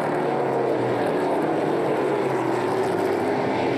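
Onboard a Chevrolet Camaro stock car in a NASCAR Pinty's Series race at Flamboro, the V8 engine roars loud and steady at sustained high revs, droning continuously throughout.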